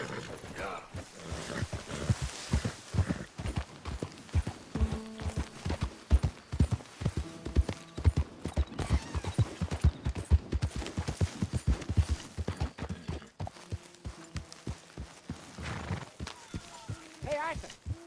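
Horse hooves clip-clop steadily in Red Dead Redemption 2, a rhythmic run of close, distinct hoofbeats lasting many seconds under a game soundtrack, with voices talking at times.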